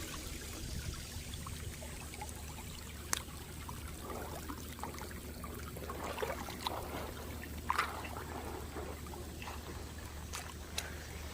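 Water of the Coosa River in Alabama flowing steadily close by, a continuous trickling, rippling wash with occasional brief splashes, heard alone without talk.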